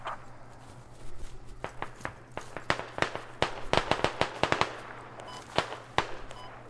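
Gunfire in the Squad video game, with sharp individual shots and rapid irregular bursts, some nearby and some more distant, over a low steady hum.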